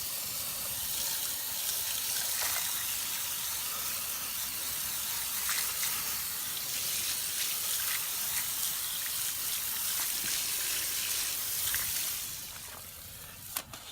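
Water sprays steadily onto a scrubbed white letter tire as it is rinsed clean, a loud continuous hiss and splash that runs unbroken before tapering off near the end.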